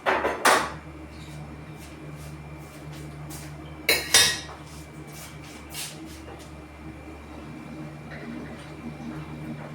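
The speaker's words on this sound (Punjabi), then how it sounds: "ਇਸ ਤਰ੍ਹਾਂ ਵਿੱਚ ਕੜਛੀ ਮਾਰੀ ਜਾਈਏ" A ladle scrapes and clanks against a pot of saag, with two sharp metallic knocks near the start and middle over a low, steady kitchen hum.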